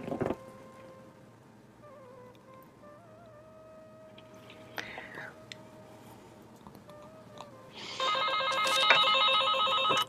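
A telephone rings loudly near the end with a bright, repeated electronic trill, preceded by a quiet stretch of faint murmuring voices and small room noises.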